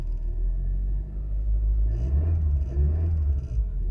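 A car idling in drive without moving, its engine giving a steady, loud low rumble close by that swells slightly partway through.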